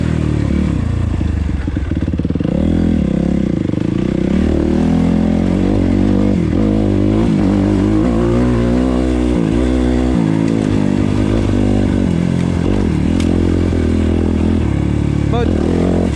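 An enduro dirt bike rides over a rough, rutted trail, its engine revving and surging constantly close by with clattering jolts, while someone talks over it.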